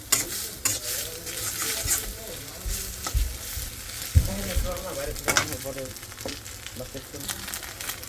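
An egg fries in oil in a pan while being stirred, with a crackling sizzle broken by scrapes and light clinks of the spatula against the metal.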